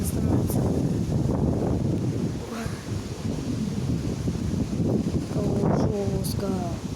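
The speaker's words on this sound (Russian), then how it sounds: "кажется, ветер мощно становится" Strong wind gusting outdoors during a storm that brought down a tree onto a car, roaring buffeting noise hitting the microphone while a person talks over it.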